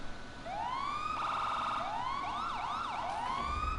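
The RCV fire-rescue vehicle in GTA wails its siren, rising sweeps that shift into rapid yelping cycles, loud and close with no talk over it.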